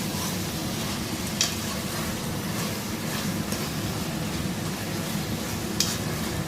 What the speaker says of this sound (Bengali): মাটনটাকে খুব ভালো করে আমি এখন কষবো।